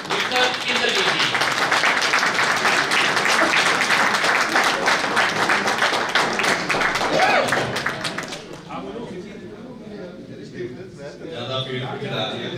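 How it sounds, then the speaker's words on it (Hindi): Audience applause and clapping at a staged presentation welcomes a speaker, a loud dense burst for about eight seconds that then fades, with voices talking under and after it. "अब मंच पर उनको बुला रहे हैं जोरदार तालियों के साथ"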